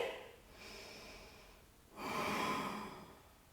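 Slow, audible breathing during a held yoga backbend, a long drawn inhale followed by a fuller, louder exhale, close and alone with no talk.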